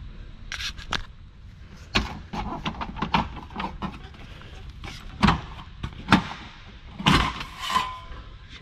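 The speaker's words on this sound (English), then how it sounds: "we're going to take our safety brackets out" Safety brackets unhooked one after another at the corners of a Flagstaff MAC 176LTD camper trailer, giving a run of sharp metallic clanks and clicks, several loud and close, separated by quieter rattles.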